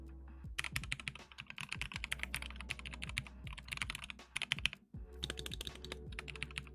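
Steady, crisp clacking of typing on a custom mechanical keyboard fitted with custom switches, close up and fairly quiet, with quick bursts of keystrokes broken by a couple of brief pauses and no talk.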